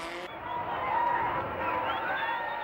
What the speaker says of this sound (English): And the crowd is up and cheering.